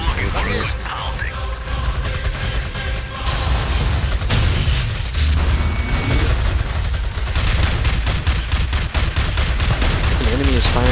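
Dense gunfire and explosions roll on continuously during a heavy offensive in the real-time strategy game Command and Conquer: Rise of the Reds, a Soviet versus GLA match, loud and layered with bursts of automatic fire.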